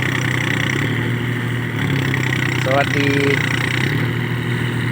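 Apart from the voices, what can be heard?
farm tractor engine, tractor stuck in mud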